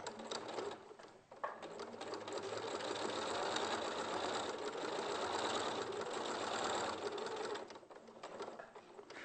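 A sewing machine with a walking foot stitches steadily and close up in reverse, a dense continuous mechanical whir holding for most of the span after a brief dip near the start, then tapering off near the end.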